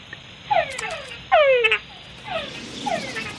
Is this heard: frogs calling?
yes